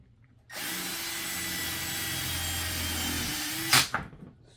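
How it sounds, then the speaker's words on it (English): A power drill drives a 1-inch self-tapping screw into EMT conduit. It makes one steady, close whir for about three seconds, then ends in a short clunk. No one speaks. "So now I'm going to go after it with some 1-inch self-tapping screws."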